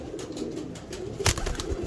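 A Teddy pigeon coos in a low burbling rumble, close up, with a sharper flutter or knock near the end.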